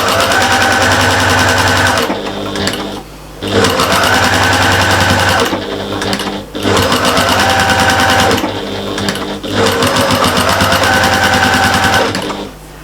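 A sewing machine stitches a big shopper bag in loud, steady runs of rapid stitching, broken by short pauses at about 2, 3, 6 and 9 seconds before it starts again.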